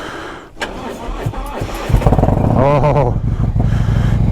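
A 2020 Road Glide Special 114 motorcycle starts cold in freezing weather: the starter cranks briefly, then the engine catches and settles into a loud, slightly uneven idle, with a short exclamation from a nearby voice.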